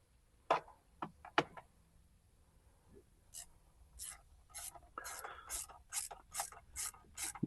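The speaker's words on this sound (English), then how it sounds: "You want to tighten this down until the spring starts to compress." Ratchet tightening a clamp on the intercooler cold-side outlet pipe of a 2017–2024 Ford Powerstroke 6.7L, a few sharp clicks followed by a steady run of rhythmic ratcheting strokes, close and fairly quiet.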